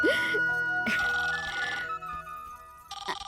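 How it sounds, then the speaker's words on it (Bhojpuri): A telephone rings indoors with a bright electronic ringtone, a couple of chiming bursts close by, and a voice is heard briefly. "अरे बुआ, तनी फोन देखी था।"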